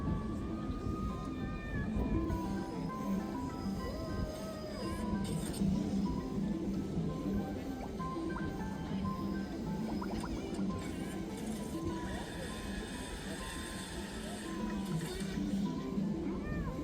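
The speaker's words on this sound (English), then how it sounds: "please enjoy this footage that I got of a cat on a billboard" Meows from a giant cat on a Tokyo billboard ring out over a busy city street, with steady crowd and traffic noise and voices throughout.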